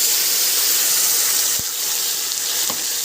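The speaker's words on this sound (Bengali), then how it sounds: "এবার যে মশলাটা বানিয়েছিলাম সেই মশলাটা দিয়ে দিচ্ছি" Spice paste hitting fried potatoes in a hot pan for chana paneer: a loud, steady hissing sizzle up close, with a couple of brief knocks from the spoon or pan.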